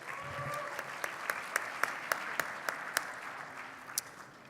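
Guests at a dinner and gala give themselves a round of applause. The steady crowd clapping is moderately distant, and a few sharper individual claps stand out above it. Faint voices murmur underneath.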